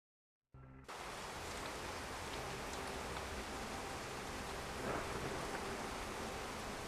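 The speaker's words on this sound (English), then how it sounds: "Cold rain lashes your face as you take your place on the typo dock. The storm is loud, practically deafening." Steady heavy rain pours in a stormy dockside scene of the video game Shadowrun: Hong Kong, a dense constant hiss that starts abruptly and continues unbroken, with a faint rumble beneath.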